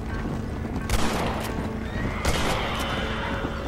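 A horse neighs and whinnies in the video game Red Dead Redemption during a horse race, amid a steady noisy background, with hoof clops and a couple of sharp bursts breaking through.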